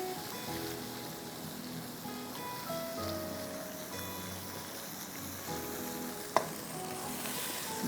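Boiled baby potatoes frying in a pan with tamarind sweet-and-sour chutney, a steady soft sizzle running throughout alongside faint background music, with one brief sharp clink near the end.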